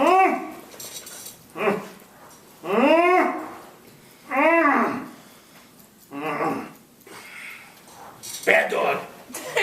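A person imitates an angry dog growl in a series of about six rough, rising-and-falling vocal bursts separated by short pauses, close and fairly loud.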